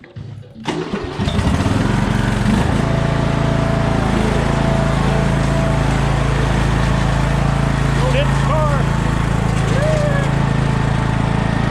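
A small lawn tractor engine sputters to life and then runs loudly and steadily up close, with a short spoken remark near the start.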